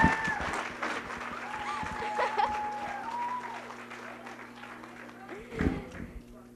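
A crowd claps steadily at a community project presentation, a dense wash of applause that stays fairly even, with scattered voices and a brief swell near the end.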